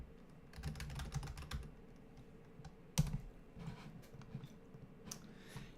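Quick bursts of keystrokes on a computer keyboard, a busy run of clicks early on, one sharp louder tap near the middle, then scattered lighter taps, close by and fairly quiet with no talking.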